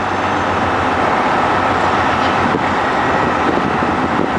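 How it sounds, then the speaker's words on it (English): A train passes on a downtown Roanoke street, heard from inside a moving bus as a loud, steady rumble and wash of broadband noise that holds for several seconds without letting up. "Here goes a train."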